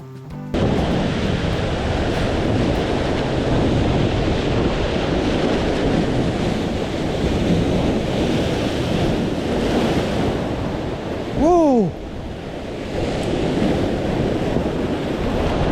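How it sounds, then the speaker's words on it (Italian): Sea waves breaking on the shore during a heavy sea storm, a loud continuous roar with wind buffeting the microphone and a brief high whistle near the end. "si torna tra le onde"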